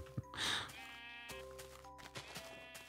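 Sheep bleat in Minecraft, one clear nasal bleat rising over a soft game backdrop with faint ambient tones and small clicks.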